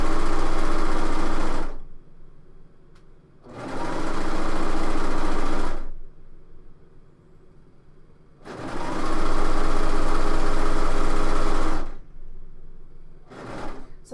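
A sewing machine sews ITY knit fabric flat in three loud close bursts of rapid stitching, each a few seconds long, separated by quieter pauses with light handling noise, and a short final burst at the end.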